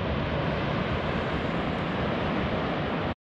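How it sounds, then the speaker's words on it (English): Ocean surf crashing below a coastal trail at Cape Lookout on the Oregon coast, a steady broadband roar with continuous wash and wind, sustained and fairly distant with no talk. "Can you guys hear the ocean? The waves crashing down there?"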